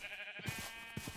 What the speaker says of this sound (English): Or I can just kill these sheep